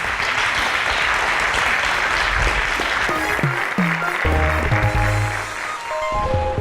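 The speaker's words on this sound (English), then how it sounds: "A round of applause for our contestants" A school quiz audience at a Nigerian inter-school mathematics contest breaks into steady, sustained applause, dense and close, with brief musical tones rising through it near the end.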